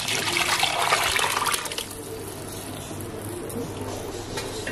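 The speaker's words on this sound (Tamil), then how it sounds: "குழம்பு நம்ம ஊத்தியાச்சு." Fish kuzhambu gravy pours into a pan of sautéed onion and garlic, a close, loud liquid rush that settles into softer bubbling and trickling.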